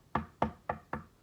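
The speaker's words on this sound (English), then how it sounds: "Wendy knocked again." Four sharp knocks on a door, evenly spaced and fairly close, with nothing else around them.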